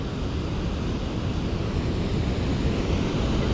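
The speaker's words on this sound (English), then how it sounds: "The water is rushing over the edge." Waterfall water rushing over the edge at the biggest waterfall in the USA, a loud, dense, constant roar of falling water heard up close without pause.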